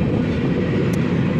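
A long cargo freight train rolls past close by in Canada, a loud continuous rumbling roar of rail cars on track with no talking.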